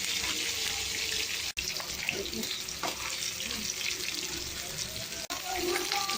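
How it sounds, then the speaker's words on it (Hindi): Fish pieces frying in a pan of hot oil, a loud steady close sizzle and crackle running throughout, with two brief sharp breaks, and no talking. "अच्छा फ्राई हो ऐसे ही करके हम सारे फिश को फ्राई कर लेंगे।"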